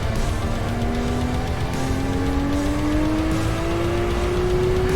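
Race car engine in a racing video game on an oval track, a steady continuous roar with pitch climbing slowly as it revs up, loud and unbroken with no talk.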